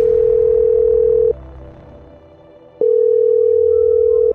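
A phone call rings out with a steady electronic ringback tone, one long buzzing burst, a pause of about a second and a half, then another long burst, clear and close with no talking.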